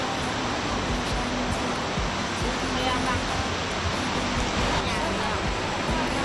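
First tier of the nine-tier waterfall in Suan Phueng district, Ratchaburi, Thailand: a continuous, steady roar of falling and rushing water, close and unbroken throughout.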